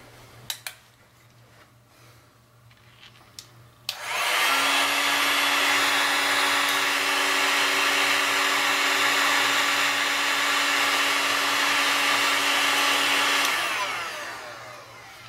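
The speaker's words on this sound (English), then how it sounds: "Grab my heat gun." A few small clicks and taps come first, then a heat gun switches on to shrink black heat shrink tubing over a radio power cord, blowing a loud steady roaring hiss for about ten seconds before cutting off.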